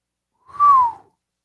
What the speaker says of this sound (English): hear that whistle?